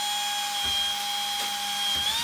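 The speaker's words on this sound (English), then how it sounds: "I normally would pre-drill a hole where I need to put it" A power drill pre-drilling a small 30mm hole whines steadily at a constant pitch, its motor holding one tone throughout with a slight rise near the end.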